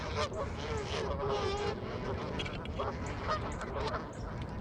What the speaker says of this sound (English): Oh my god, I hate these geese.